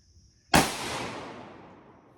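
One sharp, loud gunshot from an Uberti rolling block pistol firing Winchester ammunition, a close crack after a quiet moment, followed by a long echoing decay outdoors.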